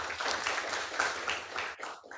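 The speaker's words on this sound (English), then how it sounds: "So a big round of applause for them." Applause from an academic audience thanking the lecturers, a dense steady patter of clapping that holds at an even level and then thins out near the end.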